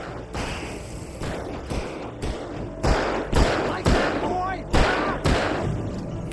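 Gunfire in Alan Wake: a series of heavy, spaced shots, roughly eight to ten booming reports landing irregularly about half a second to a second apart, loud and close, with a voice briefly audible between them.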